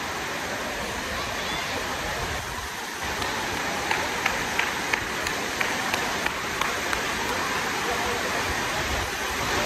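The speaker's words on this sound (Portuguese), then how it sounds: "E tá babada essa chuva." Heavy rain pours steadily on a rainy night of the São João season, a dense continuous hiss with faint ticks of drops, loud and close, with a few people talking quietly underneath.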